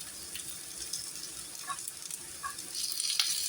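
Alu vadi, colocasia leaf rolls, crisping in a pan over a low flame give off a soft, continuous sizzle with faint crackles, steady and close without any talking.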